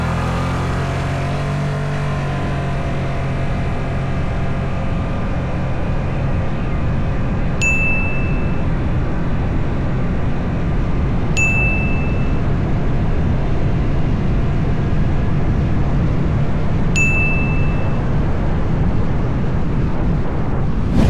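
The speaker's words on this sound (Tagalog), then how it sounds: "Sinubukan natin yung acceleration nito, yung 0 to 60 up to 80." A Suzuki Access scooter accelerates hard from a standstill up to about 80, its engine and wind roar loud and steady throughout, with three short high chimes sounding at intervals.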